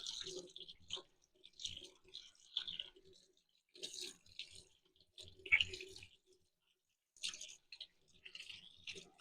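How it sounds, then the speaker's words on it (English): Cold tap water splashes and squishes in short, irregular bursts as homemade butter is rinsed under a faucet by hand, fairly close and quiet, with pauses between bursts and no voices. "now I'm going to run it under the cold water"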